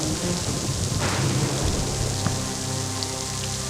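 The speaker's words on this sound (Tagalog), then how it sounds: "Mamaya, titila din yung ulan, ha?" Steady heavy rain pours down in a forest during a thunderstorm, a dense, continuous hiss with a faint rumble of thunder beneath, no voices.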